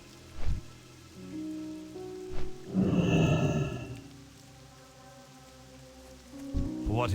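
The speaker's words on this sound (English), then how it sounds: "And really rainy today in Silver Pine." Steady rain pattering in Silverpine Forest in WoW Classic, a constant wash of drops with tonal game ambience and a swelling hum in the middle, no voices.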